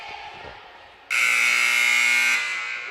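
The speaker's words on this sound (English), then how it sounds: "that was the buzzer" Loud electronic buzzer at a high school volleyball match sounds in one sustained blast of about a second and a half, cutting in sharply over quieter gym ambience and then stopping.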